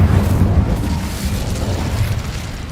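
An Incendio fire spell cast in the video game Hogwarts Legacy bursts out as a loud, close, roaring blast of fire that rumbles on for a few seconds.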